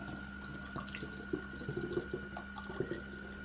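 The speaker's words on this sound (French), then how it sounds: "avec l'entonnoir, je vais tout simplement verser dans mon récipient" Liquid poured through a funnel into a container for a homemade spray, faint trickling and dripping with small splashy ticks, quiet and close, no talk.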